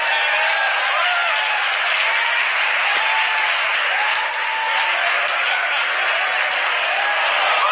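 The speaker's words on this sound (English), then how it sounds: "if you guys can hear the cheering in the background from my team members" Team members cheer and applaud after a SpaceX rocket launch, a sustained crowd of clapping and whoops filling the room steadily, loud and continuous with scattered raised voices.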